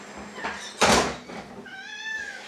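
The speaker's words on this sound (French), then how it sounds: "je vais ouvrir au chat qui est en train de s'éclater contre la porte." A cat meows insistently from behind a closed door, a drawn-out rising and falling cry following a loud thump or rattle against the door, heard nearby indoors.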